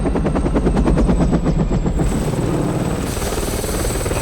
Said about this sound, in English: I was gonna say, it's just a helicopter.